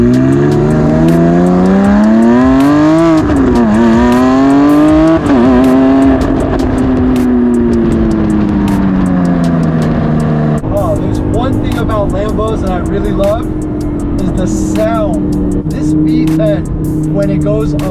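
Exhaust of a Lamborghini Aventador SVJ revving hard, loud rising and falling engine pitch sweeping up toward a scream, then a steadier roar with another climb, all close to the car.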